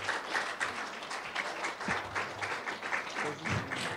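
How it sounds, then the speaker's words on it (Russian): Sustained audience applause at an awards ceremony, dense steady clapping from a crowd filling the whole stretch, with a few louder bursts and faint voices underneath. "Аплодисменты!"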